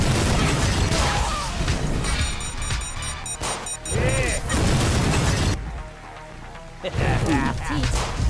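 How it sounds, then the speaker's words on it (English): Video game explosions boom and burst in rapid bursts, loud and close, with sharp pops and crashes layered over busy game music and effects. "this guy can really slow down on the explosions."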